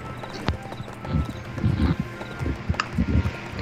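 Horse hooves clip-clop in the fantasy game ArcheAge, a steady, fairly close trotting rhythm of repeated hoof strikes over a low background hum, with no voices.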